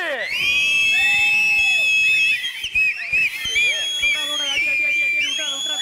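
A studio audience at a Diwali special television show whistles loudly in long, shrill, overlapping blasts, with cheering and shouting underneath and a break midway before the whistling resumes.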